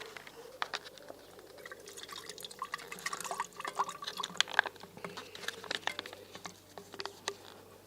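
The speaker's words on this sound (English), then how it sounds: "And then the stop bath, which stops the developing process." Stop bath chemical being poured during film developing: a quiet, steady trickle of liquid with irregular splashing drips, building slightly in the middle and continuing to the end.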